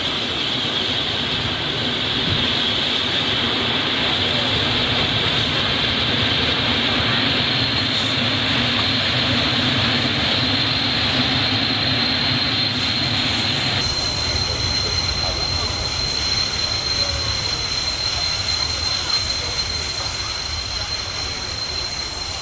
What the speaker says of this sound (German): Dieser Zug wird gezogen von zwei Dampflokomotiven.